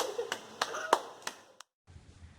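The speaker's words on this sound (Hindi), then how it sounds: "ये बाबू ताली भी बजा" A small child claps hands a handful of times at a 50th birthday celebration, giving a few sharp, moderately loud claps in a loose, uneven rhythm, then a brief silence before faint room noise returns.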